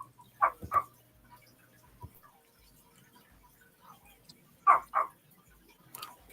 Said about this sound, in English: I'm gonna mute because my dogs keep barking